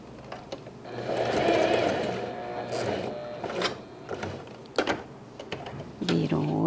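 A sewing machine stitches a pet bandana in bursts of rapid mechanical whirring, pausing and restarting with clicks and handling noises between runs, close by.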